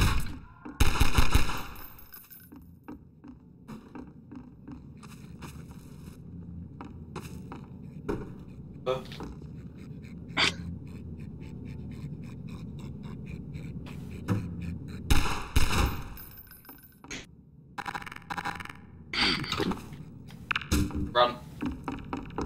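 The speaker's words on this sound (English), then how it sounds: "Stop shooting me!" Bursts of video game gunfire, some rapid like machine-gun fire, interrupt a low ambient hum, with clusters near the start and again later, while a player talks in between.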